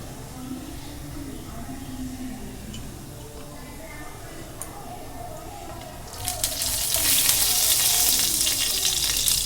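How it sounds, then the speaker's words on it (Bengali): Cumin seeds sizzle in hot oil in a home kitchen, a steady low crackle that swells into a louder, bright hiss for the last few seconds as the seeds fry. "এখানে আমি এক চামচ মতো সাদা জিরে দিয়ে দিলাম জিরাটা একটু নাড়াচাড়া করে ভেজে নেব"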